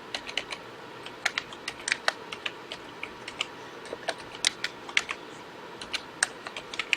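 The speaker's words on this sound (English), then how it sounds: "for some reason I have to type it in" A computer keyboard being typed on at a desk, a series of crisp, close key clicks in irregular bursts with short pauses, moderately quiet over faint room hum.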